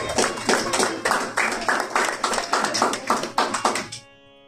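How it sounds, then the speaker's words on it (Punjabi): Loud clapping from a church congregation, a dense rhythmic burst of many hands lasting about four seconds before cutting off abruptly. "ਖੁਦਾਵੰਦ ਕੇ ਜਲਾਲ ਕੇ ਲੀਏ ਜ਼ੋਰਦਾਰ ਤਾਲੀਆਂ"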